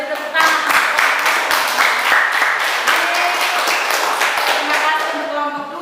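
Students in a classroom history lesson clap after a group presentation, close, loud, rhythmic applause with distinct sharp claps, continuing steadily for several seconds with voices faintly under it.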